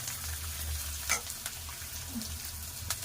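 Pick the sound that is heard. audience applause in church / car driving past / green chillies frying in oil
green chillies frying in oil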